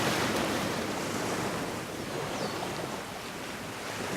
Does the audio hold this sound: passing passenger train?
no